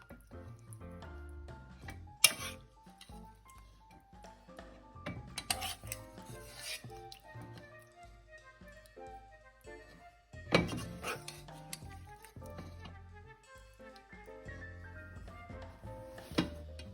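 Stovetop candied yams are scooped and plated, with scattered clinks of utensils against dishes, soft scraping and a few sharper knocks spread irregularly across the stretch, close and fairly quiet.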